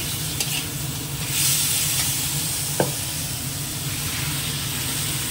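Ingredients with kohlrabi sizzle and hiss steadily in a hot pan as they are fried until red. Occasional scraping and stirring come through, with one sharp utensil knock partway through.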